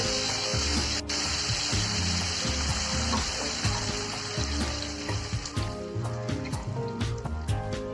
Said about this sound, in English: we are going to add the dal and tomato paste, which have been boiled nicely, to the pan